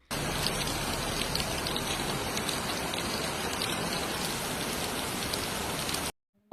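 Heavy rain pours down steadily in the Emirates, a dense, loud, unbroken hiss of drops striking surfaces for about six seconds before cutting off abruptly, with no voices.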